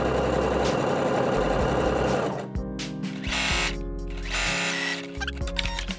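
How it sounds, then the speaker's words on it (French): A sewing machine runs a zigzag stitch over elastic for swimwear, a loud close mechanical whir that drops pace midway and then resumes in shorter bursts. "quand vous cousez votre point zigzag, vous faites en sorte que le zigzag il soit bien centré au milieu de l'élastique"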